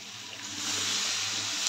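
Water poured into a cooking pot while making poi chachadi, a broadband splashing rush that swells after a soft start and runs steadily near the listener for under two seconds, with no talk.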